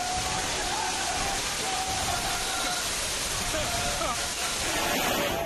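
Floodwater from heavy rain pours through a town market street in Todaraisingh, Tonk, as a loud, dense, continuous rushing roar like a waterfall, with a narrator speaking Hindi over it.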